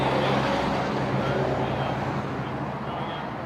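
Steady roadway traffic with cars, buses and trucks passing on a street during an outdoor press briefing about speeding cameras, a continuous loud rumble with a low engine drone and no talk over it.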